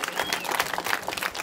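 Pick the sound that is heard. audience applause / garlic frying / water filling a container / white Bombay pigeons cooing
audience applause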